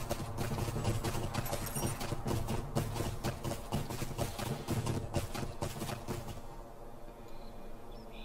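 A horse's hooves clip-clop in a steady, fast rhythm while it gallops in the online game Lord of the Rings Online. The hoofbeats are loud and close over a low droning background, then fade near the end.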